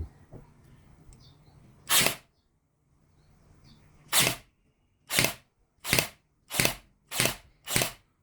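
Seven sharp, snappy bursts from a P625 cordless nail gun, one alone followed by a pause, then six in quick succession against a quiet background.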